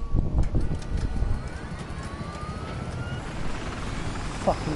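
A helicopter in a PS4 video game thumps and whirs with a steady rotor drone, moderately loud, with someone talking over it.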